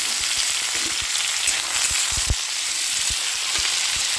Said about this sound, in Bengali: সবজিটা খুব ভালো করে ভেজে নেব